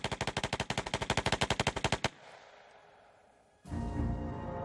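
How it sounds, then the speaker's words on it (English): A machine gun fires one rapid, evenly spaced burst of about two dozen shots, then stops abruptly and leaves a low rumble. "Vern Miller was reportedly so good with a machine gun, any machine gun, that he could write his name in bullets"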